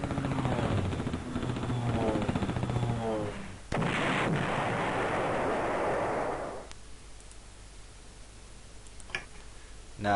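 Artillery fire in the Panzer General wargame, with a dense rumbling barrage and rapid ticking for several seconds, then a sharp blast and a noisy roar that cuts off into quiet with faint clicks.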